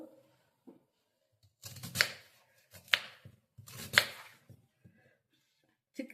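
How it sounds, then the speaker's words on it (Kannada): A knife chopping firm peeled banana stem into small pieces on a board: several crisp, separate cuts at an irregular pace, close and clear against near silence. "ಇವಾಗ ಇದನ್ನ ಚಿಕ್ಕ ಚಿಕ್ಕದಾಗಿ ಕಟ್ ಮಾಡ್ಕೋಬೇಕು."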